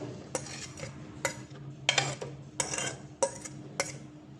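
Chopped onion and green chili mixed in a bowl with a spoon, several sharp close clinks and scrapes in an irregular rhythm, no voices.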